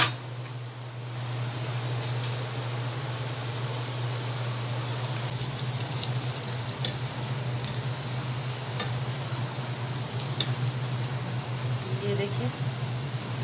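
Aloo paratha frying in ghee on a hot pan, a steady soft sizzle with a low hum running underneath and faint clinks now and then.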